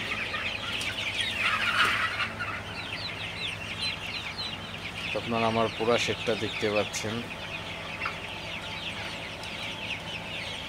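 Many chickens cluck and chatter throughout a hot poultry shed with fans running, with a fuller burst of clucking midway, while someone speaks over the flock.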